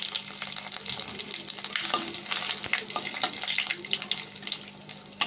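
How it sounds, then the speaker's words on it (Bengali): Cumin seeds, two bay leaves and three dried red chillies frying in hot oil, a steady close sizzle with crackling pops and occasional stirring scrapes, no voices. "যে জিরেটা রেখেছিলাম ওই জিরেটা দিয়ে দিচ্ছি, 2টো তেজপাতা দিয়ে দিচ্ছি, 3টে শুকনো লঙ্কা রেখেছিলাম দিয়ে দিলাম।"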